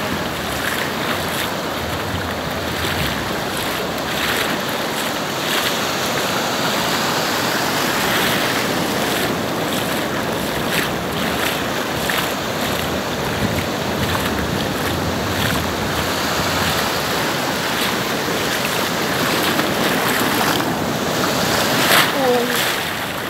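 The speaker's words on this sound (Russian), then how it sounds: "Метр волны." Ocean waves about a meter high wash and roll continuously nearby in Vietnam, mixed with gusty wind buffeting the microphone.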